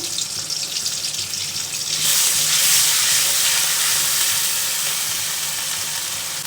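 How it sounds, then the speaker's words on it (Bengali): Onion and garlic paste hits hot frying oil with a loud, steady hiss that swells after a couple of seconds and keeps sizzling without pause. "ভাজা তেল ছিল আরও কিছুটা তেল দিয়ে এই যে আমি পেঁয়াজ রসুন বাটা দিয়ে দিলাম"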